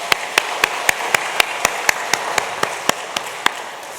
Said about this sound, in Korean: 모두 하나님께 영광의 박수를 올려드리겠습니다.